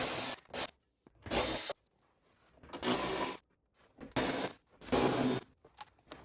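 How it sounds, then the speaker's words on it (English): Tool taking out the 10 mm bolts that hold a BMW E46 convertible front window regulator, giving five or six short close bursts of whirring and rattling separated by brief pauses. "Now we just remove the 5 bolts holding the regulator in there."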